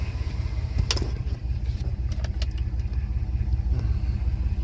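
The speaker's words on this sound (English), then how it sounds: "after hard work, time, and dedication, this vehicle's now running" A revived car engine runs steadily at idle with a low, continuous rumble, close and fairly loud. A few brief metallic clinks sound over it.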